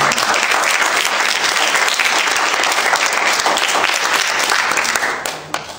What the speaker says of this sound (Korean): 우리 박수로 환영했습니다.